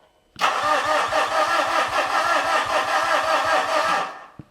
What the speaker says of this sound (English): let's try giving it a short crank and see if anything happens